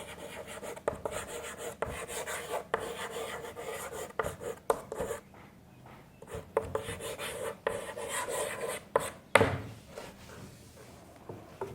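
Pen strokes scratch and tap on paper in bursts while an answer is written into an English exercise, with faint, close scribbling and short pauses between words.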